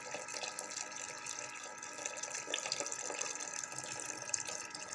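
Jaggery water poured slowly in a home kitchen, a faint continuous trickle and splash of liquid that stays steady and quiet throughout, with no speech.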